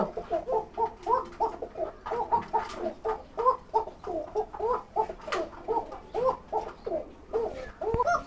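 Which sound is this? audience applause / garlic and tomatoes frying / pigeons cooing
pigeons cooing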